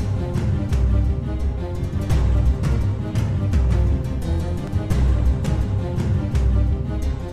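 Town theme music from the video game Zeno Clash plays loud and dense, with a steady driving rhythm of regular percussive hits over thick low tones and no voices.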